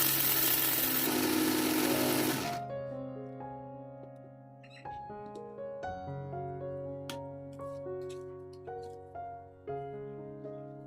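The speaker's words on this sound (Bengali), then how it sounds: "সব দিয়ে ভালো করে গুঁড়ো করে নেব আবারও।" A kitchen grinder whirs loudly as it grinds sugar, citric acid and salt into powder for homemade lemon glucose drink. It runs for about two seconds, then stops, leaving quieter tonal background sounds.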